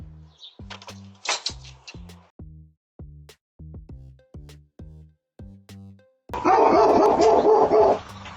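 A dog barks repeatedly in a yard, about a dozen evenly spaced sharp barks at moderate distance, followed by a burst of louder broadband noise near the end.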